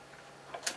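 A Yashica Mat camera shutter fires, a faint pair of quick mechanical clicks in a quiet room.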